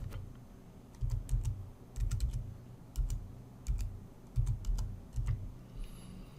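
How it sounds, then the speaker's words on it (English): Someone types a web address on a computer keyboard, tapping out irregular bursts of close, crisp key clicks separated by short pauses, with no voices. "Now, in the blank address bar, let's type in gmail.com."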